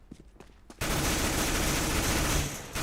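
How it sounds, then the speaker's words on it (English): Rapid P90 submachine gun fire in a co-op shooter game mission, a dense continuous burst of shots starting abruptly after a brief quieter moment and running to the end, loud and close. "So here's some poor shooting with the P90."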